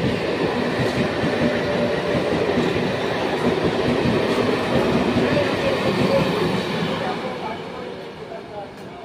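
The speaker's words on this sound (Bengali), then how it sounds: "আর একটা ট্রেন আসছে, ওই যে লাইট দেখা যাচ্ছে আসছে এখন।" A train pulls into Bidhannagar station with a loud, steady rumble and clatter of wheels on rails, then the noise eases off near the end.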